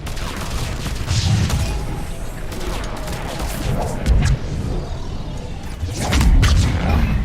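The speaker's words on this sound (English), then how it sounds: "Wow, that biotic explosion is so satisfying. Especially that sound." A biotic explosion from Mass Effect 3 erupts in a deep, rumbling blast with layered booming thuds, swelling again toward the end over a dense background of gunfire-like crackle.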